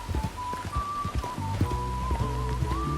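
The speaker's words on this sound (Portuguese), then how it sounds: "E para ajudar, uma chuva muito forte começa a cair." Heavy rain in Red Dead Online, a steady hiss of falling water under scattered low thumps and a sustained tonal background, with no voices.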